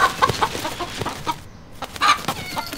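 A rooster kept indoors as a house pet clucks repeatedly in short, close bursts with brief pauses, loud and alone without any talking.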